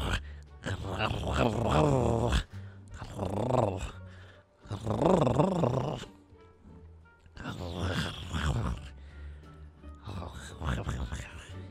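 A man imitates a dog with his voice, giving a run of gruff barks and throaty growls in five separate bursts with short pauses between them, close to the microphone.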